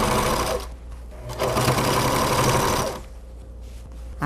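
Sewing machine stitching the fabric lining of a double pouch, close rapid mechanical chatter in two bursts separated by a short pause, then a quieter stop.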